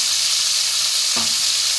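Fish frying in a chipped iron wok makes a loud, dense, continuous sizzle, close up, with one brief stir-scrape toward the end and no talk.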